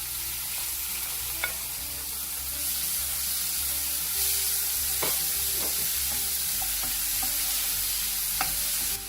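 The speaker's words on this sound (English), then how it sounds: "Fry the onions for about 2 to 3 minutes and then add the chopped tomatoes." Onions and chopped tomatoes frying in a pan for baingan bharta, a steady soft sizzle with occasional light clicks of a spoon stirring, close and without talk.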